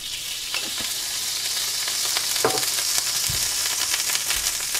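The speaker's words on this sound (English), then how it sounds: "Butter works way better than lard when you're frying pancakes." Pancakes fry in lard in an overly hot skillet, a steady fat sizzling and constant crackling hiss with occasional soft pops and scrapes, close and moderately loud, no talking.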